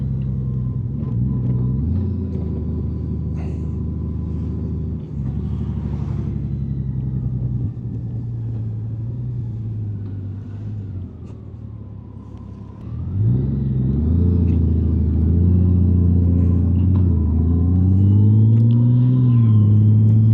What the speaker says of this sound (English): So Caitlin, this bike is an automatic transmission.